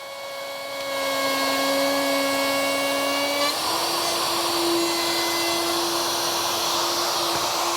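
A router cuts a dado along a guided jig with a loud, steady motor whine that shifts to a lower pitch partway through and runs without a break.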